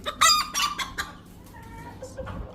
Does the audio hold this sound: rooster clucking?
yes